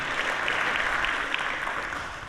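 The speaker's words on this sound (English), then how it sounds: "We accept applause." An audience applauds during a mayor's State of the City address, steady dense clapping from a crowd, sustained and fairly loud throughout.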